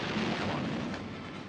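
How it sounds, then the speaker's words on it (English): Fireworks going off outside during an evening show, heard as a continuous dense roar of rumbling booms and crackle, fairly loud and steady throughout with no clear gaps between bursts. "It's the fireworks."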